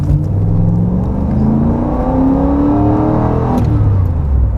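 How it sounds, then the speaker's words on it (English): A 1987 Chevrolet Camaro IROC-Z's deep V8 engine rumbles loudly and close, revving up as the car accelerates steadily. "listen to the V8 sound. There's no mistaking American V8 rumble."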